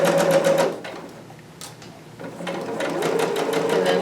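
A sewing machine runs a back stitch in quick rattling bursts, stopping briefly, then starting again for a longer steady run, close and clear.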